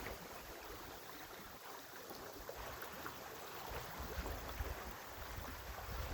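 Water sloshes and washes around in a gold pan while someone pans river gravel from the Salcha River, a steady rushing wash that grows somewhat louder toward the end.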